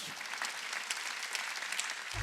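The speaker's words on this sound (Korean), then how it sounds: "박수 치라 박수." A church congregation applauds during a Korean sermon, a steady, fairly faint patter of many hands that runs alone until a sudden low thump at the very end.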